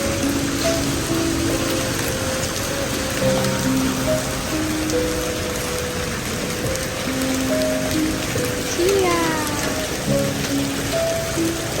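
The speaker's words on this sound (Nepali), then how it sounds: "बाहिर यत्रो यत्रो असिना पनि परिरहेको छ" Hail falling outdoors during a rainstorm, a steady dense patter of ice pellets on surfaces continuing throughout at fairly loud level, with faint bird chirps scattered in the background.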